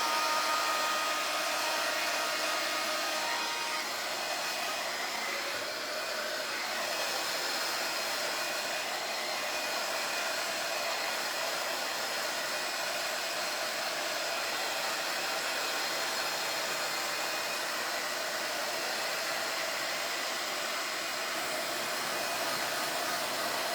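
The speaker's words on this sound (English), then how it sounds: "So I'm going to dry it just a little bit and hope that we don't melt any of the glue." A hair dryer blows steadily and loudly at close range for the whole stretch, drying glue on a thrifted wooden heart, its even whooshing roar never pausing.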